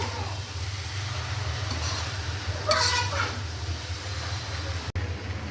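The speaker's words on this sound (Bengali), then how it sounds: "আমি এভাবে সব কিছু এখন মিশাইয়া দিই" Fried rice with sugar and ghee is stirred in a pan on a stove, giving a steady scraping sizzle with a brief louder scrape midway, over a constant low hum.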